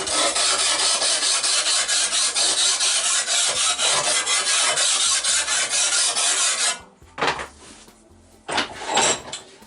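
A hand file rasps across the edge of an old vintage garden hoe to form a bevel, steady rapid back-and-forth strokes loud and close for about seven seconds, then a few separate strokes after a pause.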